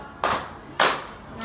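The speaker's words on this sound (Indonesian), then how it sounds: "oke, tepuk tangan" Children in a school group counseling session clap twice in unison. The two crisp, loud claps are about half a second apart.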